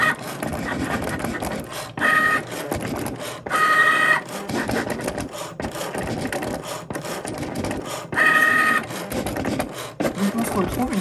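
A Cricut cutting machine slicing material for party table decorations, a busy mechanical whirring with intermittent higher motor whines and clicks, heard close under soft background sound.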